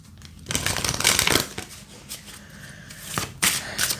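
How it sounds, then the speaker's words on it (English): Cards from an angel oracle deck are shuffled, with bursts of crisp riffling and flicking, short pauses, then a final shuffle and a card drawn, close and moderately loud, with no talking. "I'm going to pull an angel card to wrap up here."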